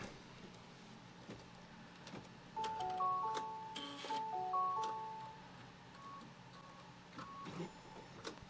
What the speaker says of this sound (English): now it's going to do a stitch line from here all the way over to the left